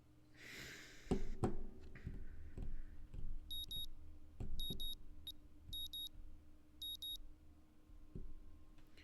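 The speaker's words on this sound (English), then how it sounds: "The sound of my alarm quickly has me up and about" An alarm clock in the Katawa Shoujo visual novel game beeps in four short, evenly spaced bursts, faint against soft background music and a low hum.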